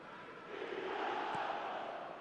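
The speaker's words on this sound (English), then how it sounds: "the crowd are reacting to that now" Stadium crowd noise in the eFootball video game, a broad steady roar that swells after the first half second and holds at moderate loudness, with no clear speech over it.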